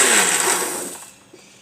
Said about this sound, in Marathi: आता आपण मिक्सरला बारीक करून घेऊ।